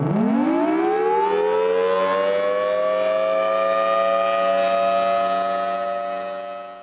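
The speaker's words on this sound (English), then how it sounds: "we can actually make the siren go around like this also." A large rotating civil defense siren, the Thunderbolt, winds up from a low growl to a loud, steady wail that holds, then begins to fade slightly at the end.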